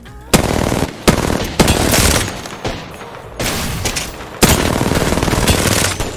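Rapid machine gun fire in a video game, loud, sustained bursts of rattling shots broken by brief pauses and sharp booming reports.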